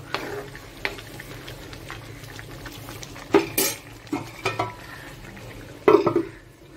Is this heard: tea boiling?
yes